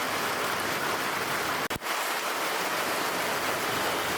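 Steady hiss of rainfall, even and unbroken, with one brief dropout midway.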